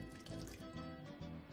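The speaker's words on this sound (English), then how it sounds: "So I'm gonna clean my hands right now." A kitchen sink tap runs steadily while hands are washed under the water, a continuous close splashing hiss with small uneven surges and no talk.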